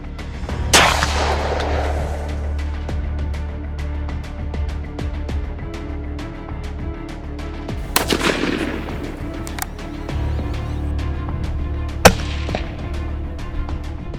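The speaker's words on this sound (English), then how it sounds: "hunters use the common bolt-action rifle with powerful caliber barrels such as the 308 Winchester" Three sharp bolt-action rifle shots in .308 Winchester crack out several seconds apart, each with a ringing echo, over a steady low background hum.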